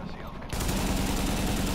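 Gunfire in the shooter video game The Division, a sudden dense burst of shots that continues steadily and loudly after a short quieter moment.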